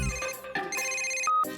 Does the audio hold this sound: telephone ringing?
yes